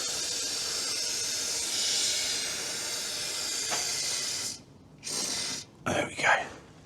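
A wand sprays Bilt Hamber underseal into a vehicle cavity with a close, steady hiss, then breaks into a few short spurts of spraying near the end.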